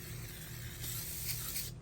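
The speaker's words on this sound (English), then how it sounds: "I actually just pointed this down this way and I sprayed it down" Cleaner sprayed down onto a Glock pistol gives a short, quiet continuous aerosol hiss lasting under two seconds, with faint background hum.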